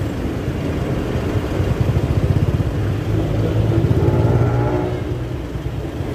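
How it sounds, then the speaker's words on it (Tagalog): Dense city street traffic on North Avenue, a steady close engine rumble from cars and motorcycles with idling and mild revving, continuous throughout with no talking. "Ang traffic talagang North Avenue, oh."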